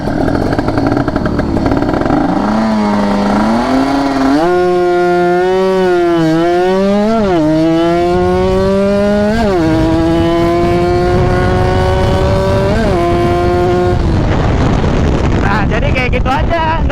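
A motorcycle engine revs hard and climbs steadily through the gears on a launch from the start, shifting around 12,000 RPM, loud and close throughout with repeated rising and dipping pitch.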